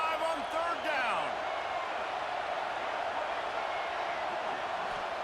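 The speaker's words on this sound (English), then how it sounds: "The Buckeye crowd alive on 3rd down." Stadium crowd noise in EA Sports College Football 26 as the Ohio State Buckeyes face third down, a loud, steady roar that stays broad throughout, with a play-by-play voice speaking over the start.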